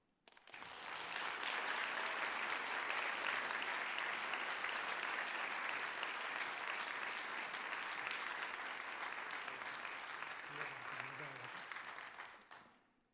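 Audience applause at a senior academic and athletic recognition ceremony: a steady, dense wash of clapping that holds evenly for about eleven seconds before tapering off at the end.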